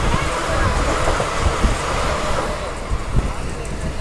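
A train on the Bidar to SMVT Bengaluru route rumbles past steadily, heard from aboard another train with broadband wind and rail roar throughout and a few heavier thumps near the end.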